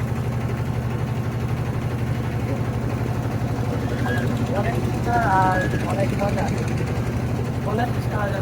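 A boat's engine chugs steadily during a river trip on the Dhalai river near Sada Pathor, Bholaganj, Sylhet, with a constant low throb running throughout while people talk over it.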